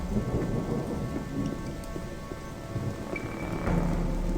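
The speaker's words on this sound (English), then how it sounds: "It is about to start raining, actually." Steady rain falls with low rolling thunder in the fantasy role-playing game Gothic 1, a continuous dense wash that swells slightly near the end, with no talking.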